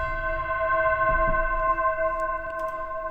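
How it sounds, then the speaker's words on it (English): Sustained tubular bell tones ring with long, smeared reverb tails, a steady shimmering wash with faint clicks and rumbles underneath. "I have another thing of tubular bells, and then run those through a really wacky reverb"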